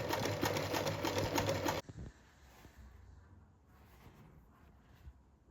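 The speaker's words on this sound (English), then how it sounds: "fold the longer allowance around the shorter one and top stitch it down" A sewing machine runs steadily and loudly for just under two seconds while top-stitching 100% cotton flag panels, then stops, leaving faint handling rustles and small taps.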